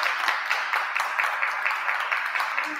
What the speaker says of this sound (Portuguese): Salve de palmas pro Jonathan.